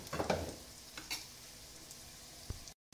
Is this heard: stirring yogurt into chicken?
yes